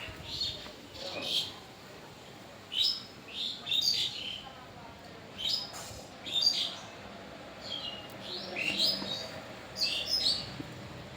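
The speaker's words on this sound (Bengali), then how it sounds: "গাছে গাছে পাখি" Birds chirping in the trees around a village home, repeated bright tweets in short bursts at a moderate distance over a quiet outdoor background.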